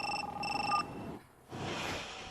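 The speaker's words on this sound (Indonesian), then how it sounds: "Kak Pei, telepon." A telephone rings in a few short electronic bursts, fairly close and clear, then breaks off into a brief quiet gap before a soft rustle of room noise.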